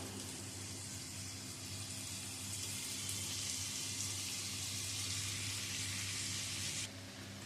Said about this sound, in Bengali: সমস্ত চিকেন দিয়ে চিকেনটা এই মশলার সাথে একটু ভাজা ভাজা করে নেব